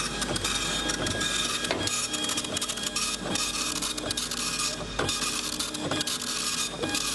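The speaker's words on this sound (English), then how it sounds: "I'm using a dot matrix printer for this" A Panasonic dot matrix printer prints a tattoo stencil, its dense buzzing rasp running continuously with rhythmic head passes and periodic clicks at line ends, close and steady throughout.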